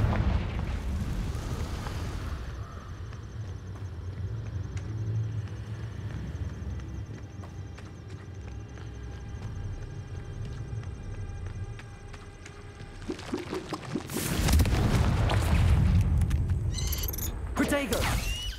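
Confringo fire-spell explosion in Hogwarts Legacy: after a long stretch of humming game ambience, a loud burst of crackling blasts hits near the end and fades into a rumbling tail.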